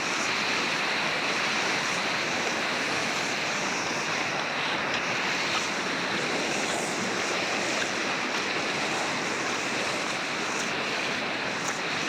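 Rushing floodwater in a heavy downpour, a dense, loud, unbroken roar of churning water and wind noise that holds steady from start to finish with no voices.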